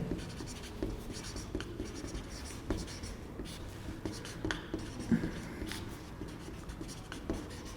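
Chalk writes on a board in a chemistry classroom, making soft scratchy strokes and light taps in an irregular rhythm, close but fairly quiet.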